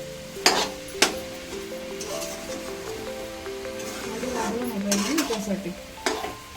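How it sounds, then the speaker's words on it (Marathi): A spoon stirs a coconut and sugar mixture in a pan for coconut barfi, with soft scraping and light sizzling, a few sharp clinks against the pan, and a voice speaking briefly. "चांगलं साखर विरघळेपर्यंत आपण हलवत राहायचं त्याला मिश्रणाला."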